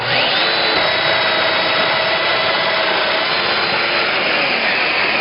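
A Festool Domino XL joiner plunge-cutting a mortise in a wooden table apron, a loud continuous high motor whine that runs steadily throughout and cuts off at the end.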